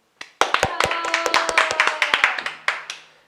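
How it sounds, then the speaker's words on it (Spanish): A few people in a small room clap in a loose, uneven run of sharp, close claps over about three seconds, with a brief voice sounding beneath them. "Un aplauso para Lugo."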